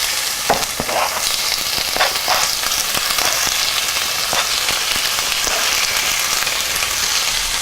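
Lamb sautéing in a hot pan gives a loud, dense, continuous sizzle close up, with occasional sharp pops and crackles throughout and no talking.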